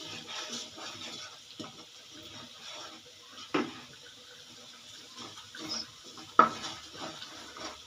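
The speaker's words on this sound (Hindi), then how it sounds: "इसको 2 मिनट के लिए भूनेंगे।" Spices and chana dal are stirred and fried in a pan, with soft scraping and sizzling under a steady hiss, broken by a couple of sharper clinks of the spoon against the pan.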